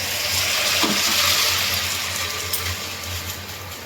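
Okra and potatoes frying in a pan, a moderate, continuous sizzle with a low hum beneath, steady and close with a faint clink partway through.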